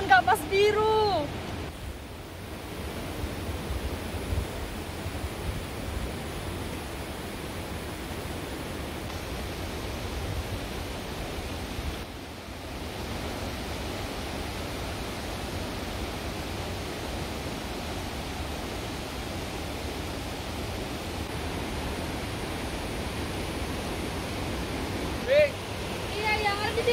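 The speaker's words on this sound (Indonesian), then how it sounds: "Air terjun kapas biru." Kapas Biru waterfall gives off a steady, continuous roar of falling water that holds evenly throughout, with faint voices and a few handling knocks near the start and end.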